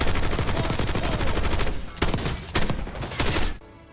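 Rapid automatic gunfire rattles through a Call of Duty: Black Ops 6 firefight, a loud dense volley that thins into separate heavy bursts before cutting off abruptly into quiet.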